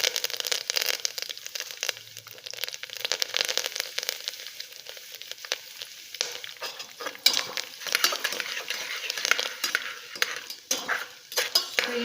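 Curry leaves crackle and sizzle in hot tempering oil with asafoetida, a steady, close frying hiss with scattered sharp pops and occasional utensil scrapes, no voices.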